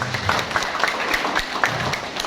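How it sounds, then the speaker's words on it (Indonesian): A crowd claps steadily in dense, continuous applause, the claps blending into a bright wash with no voices standing out. "Tepuk tangan untuk PT BES."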